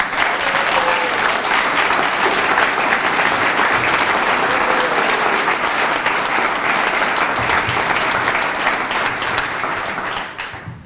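Sustained audience applause at a poetry reading in Nevada City, California, a loud, even roomful of clapping that holds steady for about ten seconds before tapering off at the end.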